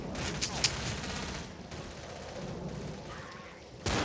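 Gunfire rattles in the video game Left 4 Dead 2, rapid shots in a dense, steady barrage at moderate volume, with a sharper burst near the start and another at the very end.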